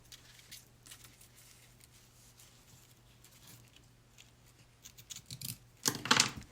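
Scissors snip through burlap ribbon at close range, a few quiet cuts building to a louder burst of crisp snipping at the end, with no one talking.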